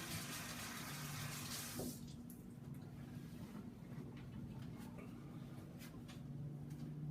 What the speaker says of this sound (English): I'm gonna just wash my hands off because it's got a little too much egg on it